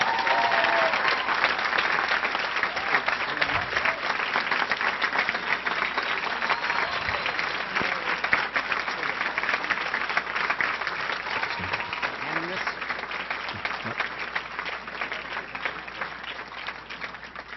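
A crowd at a school board meeting gives sustained applause for swimmer Jason Arthur, a dense, steady clapping that carries on loudly without letup and fades slightly toward the end.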